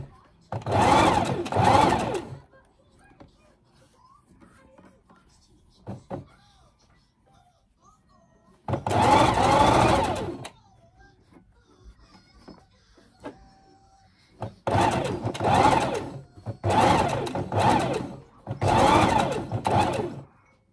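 A sewing machine stitches an elastic casing at the neck of a bridesmaid dress in several bursts of rapid whirring, with quiet pauses and handling noises between the runs.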